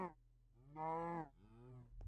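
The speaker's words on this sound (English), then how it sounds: "I can hear cows." Minecraft cows give two drawn-out, low moos in a row, loud and close, with a short quiet gap before the first call and no talking.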